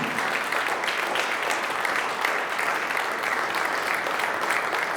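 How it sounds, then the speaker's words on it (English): Dense, steady applause from a crowd at an arts hall of fame induction ceremony fills the space evenly and continuously, with no voices breaking through. "one more big round of applause for Rick"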